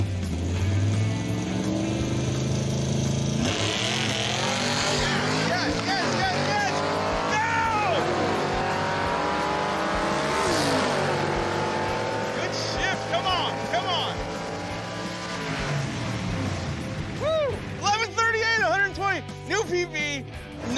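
A 1971 Chevy Suburban budget build accelerates hard with bang shifts, the engine revving loud and close with rising and falling pitch sweeps through several gear changes and a sharp rise near the end.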